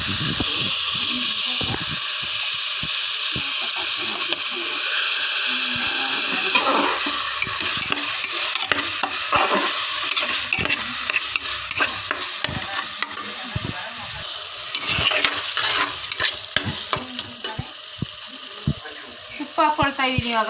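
Tomatoes stirred and frying in a pan for khichdi, a steady sizzle with scraping stirs and clatter throughout, busier toward the end, some faint voices in the background.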